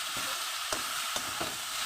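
Greens sizzle and crackle steadily in a hot pan, with a few sharp clanks of stirring.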